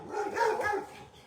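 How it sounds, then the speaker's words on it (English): Dogs bark at neighbors passing outside, a short cluster of two or three sharp barks at moderate distance followed by a brief fading tail, with no speech over them. "And the dogs are barking at the neighbors too."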